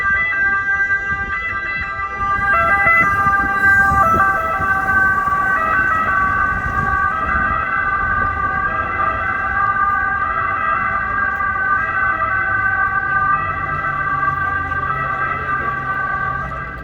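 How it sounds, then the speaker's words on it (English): A loud two-tone European emergency siren wails continuously, alternating between pitches, with traffic rumbling underneath. "those iconic European sirens"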